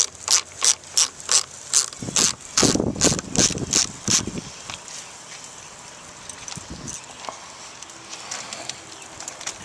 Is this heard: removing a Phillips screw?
yes